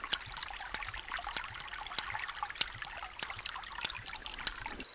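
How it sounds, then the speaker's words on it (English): Shallow creek water trickles and burbles steadily at the intake of a hydraulic ram pump, a continuous close babble with small sharp drips and splashes ticking through it. "I'm standing in the creek where I have the water source for the ram pump."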